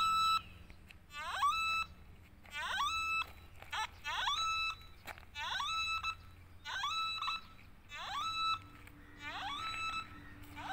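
A metal detector sweeping over a manhole cover gives repeated bursts of warbling electronic beeps, about nine pulses in a steady rhythm, clear and close with quiet gaps between.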